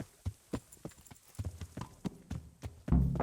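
A dapple-grey stallion trots along in Kingdom Come: Deliverance, its hooves clip-clopping in a steady, even rhythm of distinct close thuds with no talk, ending in a louder thump.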